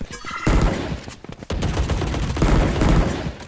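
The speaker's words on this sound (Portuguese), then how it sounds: "Olha os tirinhos passando aí." Rapid gunfire from a Valorant match, dense bursts of shots close up with a sharp break midway, then sustained loud firing continuing to the end.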